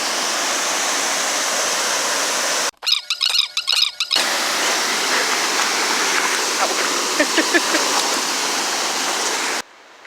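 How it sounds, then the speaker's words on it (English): Steady roar of a waterfall spilling into a swimming hole on a stream, a continuous broadband rush close by, briefly cut away once and overlaid with some faint squeaky sounds partway through. "We went upstream a bit where there was a waterfall and a bigger swimming hole"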